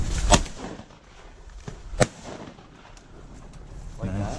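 Two sharp shotgun blasts during a mallard duck hunt ring out about a second and a half apart, loud and near, over outdoor background noise.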